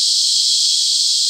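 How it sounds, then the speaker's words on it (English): Cicadas call loudly in mopani woodland, a piercing continuous high buzzing drone, intense and unbroken, filling the air with nothing else audible beneath it. "these cicadas are going absolutely crazy."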